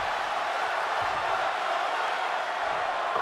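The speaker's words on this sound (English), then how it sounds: "Crowd coming alive there for that spear as Roman goes for the cover" A WWE 2K22 arena crowd roars after Roman Reigns hits a spear on Big E, a steady, dense wall of cheering with faint voices underneath.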